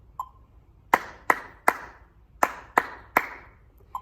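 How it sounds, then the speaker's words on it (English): Hands clap a rhythm over a steady metronome beat: a faint metronome tick, then six crisp, close claps in an uneven pattern, two quick pairs and singles, ringing sharply in a quiet room. "On top of that beat, I'm going to clap a rhythm."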